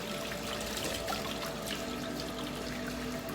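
Water sprays and trickles steadily at a low level while rinsing a dog during a grooming bath, a continuous hissing wash with no talking.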